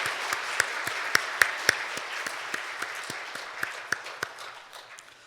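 A church congregation applauding during a worship service, a steady rain of clapping with several sharp nearby claps, slowly thinning and fading over several seconds.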